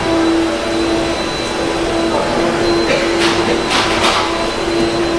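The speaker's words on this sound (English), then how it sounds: "Get your vacuum cleaner out." A vacuum cleaner running steadily nearby, a loud continuous whine with a constant hum, with a few brief clatters partway through.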